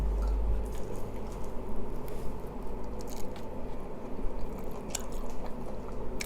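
Monthong durian being bitten and chewed close up, with steady soft crunching and squishing mouth sounds running continuously throughout, no talking.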